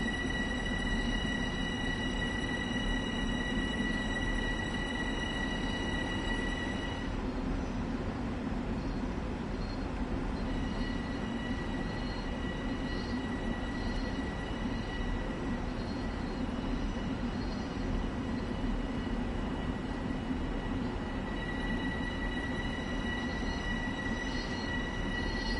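A Long Island Rail Road train in Train Sim World runs continuously, with a steady rumbling roll, high wheel squeal that fades and returns, and a loud, sustained presence.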